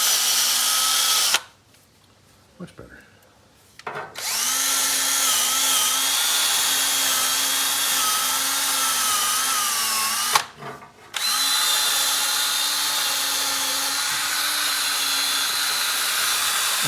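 A wire brush on an electric drill scrubs metal parts of a neglected 1926 Oakland car, a steady high whine running continuously with two brief pauses where the motor stops and restarts, close and loud, with a short spoken remark.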